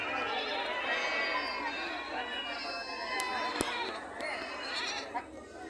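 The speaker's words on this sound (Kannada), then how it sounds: "ಫ್ರೆಂಡ್ಸ್, ಇದು ಕುರಿ ಮಾರ್ಕೆಟ್ ನೋಡ್ರಿ." Sheep bleat again and again at a busy weekly livestock market in Haveri, their overlapping calls rising over constant crowd murmur and distant background noise.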